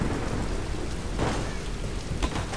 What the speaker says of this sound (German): es ist ein Sturm.